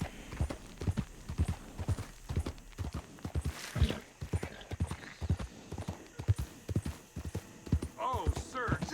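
Horse hooves clip-clopping at a steady walking rhythm in the video game Red Dead Redemption 2, with close, evenly spaced hoofbeats running throughout and a voice talking over them.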